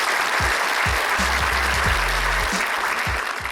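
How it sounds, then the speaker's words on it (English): Canned applause sample triggered from a pad button on a Mackie M-Caster Studio podcast mixer, a steady wash of clapping and cheering lasting a few seconds with low thumps beneath, heard alone. "And then we have an applause."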